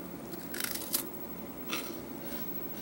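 A knife cuts through a layered chocolate wafer cookie, giving a few brief crisp crunches and crackles up close against a quiet background.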